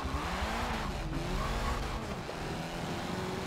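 Race car in Forza 7 at the Prague track, a steady loud engine drone with shifting pitch and tire squeal as the car slides, with no talking.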